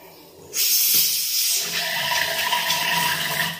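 Water gushing from a newly connected water line at a house under construction, a sudden loud steady hissing rush that starts abruptly and keeps flowing, with people talking faintly underneath.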